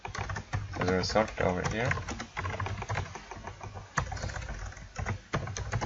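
C++ code being typed on a computer keyboard, a busy run of close, crisp key clicks and taps mixed with someone talking over them.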